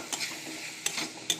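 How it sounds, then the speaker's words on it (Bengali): Spice paste with ground cumin fries in a pan with a soft, steady sizzle, while a utensil scrapes and stirs it in a few sharp strokes; fairly quiet and close, with no talking. "মশলাটা একটু ভাজা ভাজা হবে, তারপর বাদ বাকি মশলা দেব।"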